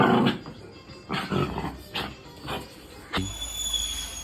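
A dog barks and growls in several short, loud bursts separated by brief pauses, close to the listener, with no speech.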